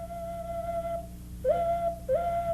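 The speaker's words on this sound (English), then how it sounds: "Baked clay, or ceramics, formed the material from which whistles and ocarinas were made." A baked clay whistle or ceramic ocarina plays sustained, pure notes: one long held tone, then two shorter tones that each slide upward, set against a low background hum.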